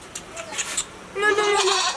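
A goat bleats briefly at close range, a short wavering cry toward the end of the moment, with faint background sounds before it.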